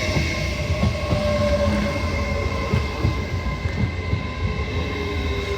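Class 801 electric trains passing at Peterborough on the East Coast Main Line, a steady loud rolling rumble with wheel and rail noise and a sustained metallic whine throughout, no voices.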